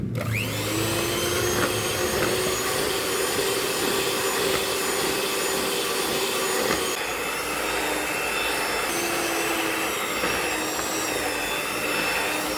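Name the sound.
electric mixer beating egg into choux pastry dough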